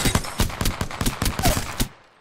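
A P2020 pistol fitted with a sniper scope fires rapidly in a video game, about a dozen sharp, evenly spaced shots in under two seconds, loud and close, then stopping abruptly.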